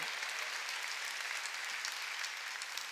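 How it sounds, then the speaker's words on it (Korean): A church congregation claps during a Sunday worship sermon, a dense, even wash of many hands that holds steady throughout, fairly quiet and with no voices over it. "빨리 박수를 하는 게야"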